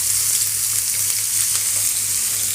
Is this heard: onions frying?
yes